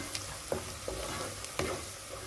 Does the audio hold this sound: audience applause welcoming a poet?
no